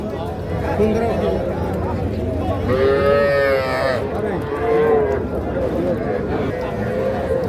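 Bull calf at a busy cattle market, with a drawn-out moo rising near the middle over a crowded background of voices and bargaining chatter.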